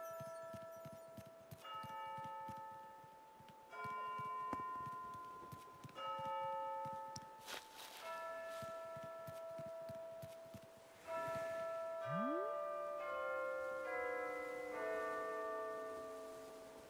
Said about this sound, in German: mit dem Glockenturm klingeln